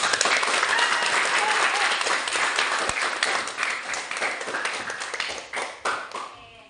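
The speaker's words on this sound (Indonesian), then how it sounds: "tepuk tangan dulu untuk" Steady applause from a class of students, dense clapping that holds for several seconds before thinning out and fading near the end.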